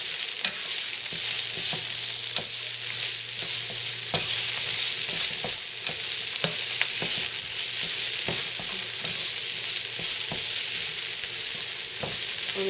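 Asparagus stalks and chopped organic broccoli cooking in a pan, with a steady close sizzle and frying hiss broken by scattered stirring clicks and scrapes throughout, no talking.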